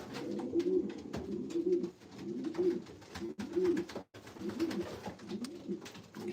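Racing pigeons coo close by in a repeated rhythm of soft, throaty, rolling calls, several in succession, with a few light knocks and flutters in the background.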